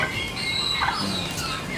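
A Black Spanish turkey, kept as an ornamental farm bird, gives a short clucking call close by, one brief burst of vocalising over steady background noise.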